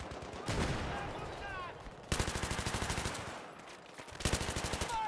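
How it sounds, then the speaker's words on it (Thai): Heavy automatic gunfire in Battlefield 3, coming as long rapid bursts of close, loud machine-gun shots separated by brief lulls of lighter in-game noise. "มันยิงมาหนักมันยิงมาหนักเลย"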